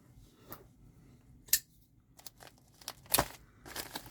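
Quiet, scattered sounds of a dull knife cutting open a watch's packaging, with short sharp snips and crinkles of packaging at irregular intervals against near silence.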